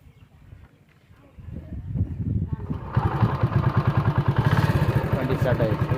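A TVS XL 100 moped engine, PS4 model, starts and runs with a close, rapid rhythmic chugging that grows louder, with talk in the background.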